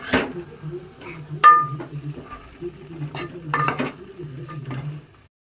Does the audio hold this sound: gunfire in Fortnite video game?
no